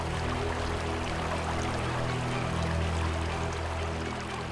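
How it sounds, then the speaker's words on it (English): Water flowing into the dry bed of the Sand River in Africa at the start of the wet season, heard as a steady, close, continuous rushing wash with no breaks and no voices. "Wet season on the Sand River starts with a trickle."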